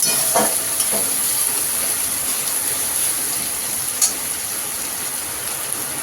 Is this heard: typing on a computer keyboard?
no